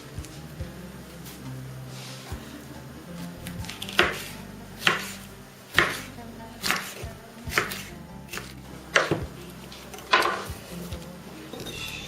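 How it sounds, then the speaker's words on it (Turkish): A knife chops peppers on a cutting board in a series of crisp, evenly spaced thuds, about one every second, close up in a quiet kitchen. "Şimdi ortadan ikiye keserek çok ufak olmayacak şekilde doğrayacağız."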